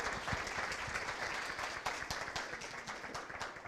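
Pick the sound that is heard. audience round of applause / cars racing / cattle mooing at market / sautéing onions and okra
audience round of applause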